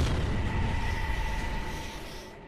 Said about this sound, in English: Suddenly, there's a flash and a loud bang.